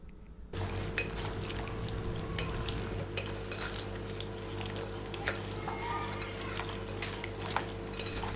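Dried fruits and brown dates being stirred together in a bowl for plum cake, soft scraping and clinking of a utensil against the bowl at irregular intervals, faint and close, over a low steady background hum.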